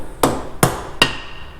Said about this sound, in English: we're going to use a dead blow hammer